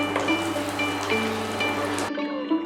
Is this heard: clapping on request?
no